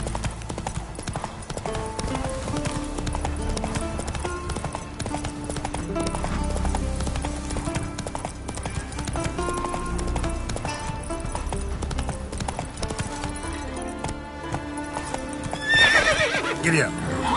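A horse gallops with rhythmic clip-clop hoofbeats across the open world of The Witcher 3, over game music, with a loud neigh near the end and a voice talking in between.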